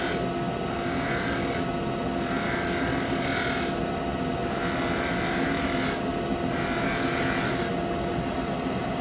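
A lathe tool cutting the front edge of a spinning yew lidded pot, a steady loud scraping and whirring hum with rhythmic swells as the tool passes over the wood.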